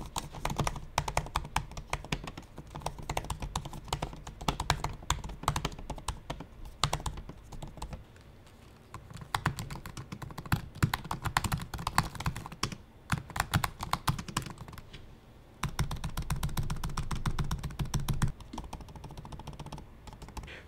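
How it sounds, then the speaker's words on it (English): Steady, rapid typing on a 2018 15-inch MacBook Pro keyboard, close and crisp, with dense clicks and a few brief pauses. "Let's listen to this keyboard"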